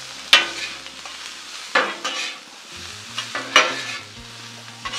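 Vegetables for Mongolian beef stir-fried in a hot pan, with a steady sizzle broken by several sharp scraping stirs and clanks near the front, no talking.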